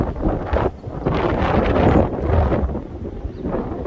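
Strong gusty wind roars and buffets the microphone outdoors while a plane flies overhead, surging and easing in several loud, close gusts with brief lulls, no one speaking.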